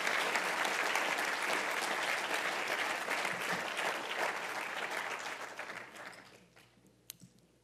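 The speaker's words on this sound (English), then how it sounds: "How about another round of applause?" Sustained crowd applause at an outdoor One Boston Day 2018 gathering in Boston, following a choir performance; dense, steady clapping that fades toward the end with a few last claps.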